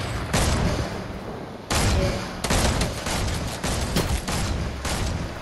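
Gunfire in a video game comes in several loud, sharp bursts, with rapid shots clustered into volleys and short pauses between them.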